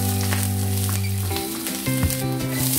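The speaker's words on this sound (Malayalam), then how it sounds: "ഞാൻ പൊടി പൊടിയായിട്ട് അരിഞ്ഞ കറിവേപ്പിലയാണ് ഇതിലേക്ക് ചേർക്കുന്നത്" Finely chopped curry leaves hit hot oil while making fish cutlets, bursting into a loud, close crackling sizzle with sharp spitting pops over a low steady hum, without any speech.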